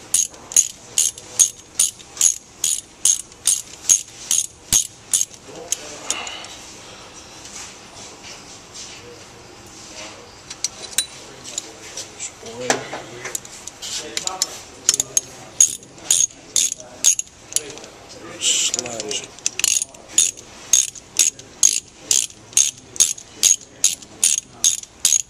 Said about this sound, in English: now that the bolts have loosened at it a bit, we can go at it again with the ratchet